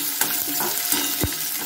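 Onions sautéing in a pan with curry leaves, a loud continuous frying sizzle broken by a few stirring scrapes and one dull knock, heard up close with no voices.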